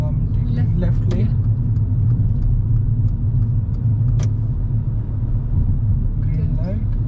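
A car drives through London traffic during a driving lesson, with a steady low engine and road rumble throughout and a few faint higher clicks and sounds around it, while people talk over the drive.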